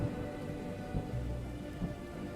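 Heavy spring rain falls steadily in a thunderstorm, a dense even hiss with faint low rumbles beneath, fairly quiet and with no voices.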